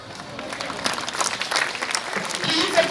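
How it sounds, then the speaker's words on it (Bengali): Applause from a crowd at a school annual sports day during the flag hoisting, scattered, fairly distant clapping over outdoor ambience, with no voice clearly on top. "Please applaud the moment with a huge round of applause, all of you."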